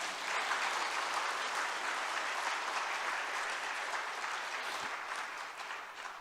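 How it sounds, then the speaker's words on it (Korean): A church congregation breaks into sustained applause during a testimony service, a dense, even wash of clapping that carries steadily for several seconds before easing slightly at the end. "여러분, 은혜 받는 사람이 이때 박수 칩니다."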